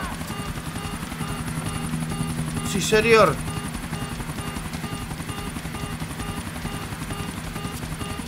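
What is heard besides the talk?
helicopter flying in GTA IV video game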